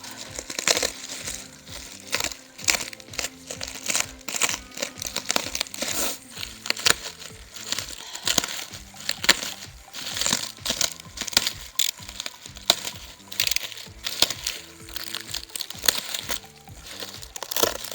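Heavy packaging around a BMW G8X M3/M4 carbon part from ADRO is torn and unwrapped close by, with continuous crinkling, crumpling and ripping bursts over eighteen seconds.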